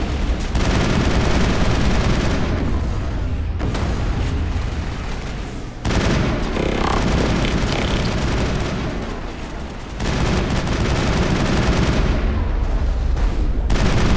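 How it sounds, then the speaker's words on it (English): Loud, dense gunfire in the video game Mass Effect, near-continuous bursts and heavy blasts with a few short pauses between long volleys. "What the hell are you shooting at?"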